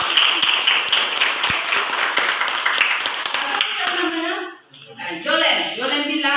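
Students in a classroom clap together in a brisk, loud burst of individual claps that fades after a few seconds, followed by a teacher and children talking.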